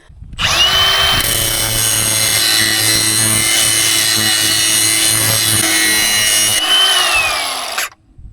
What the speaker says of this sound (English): that's basically how we sharpen our knives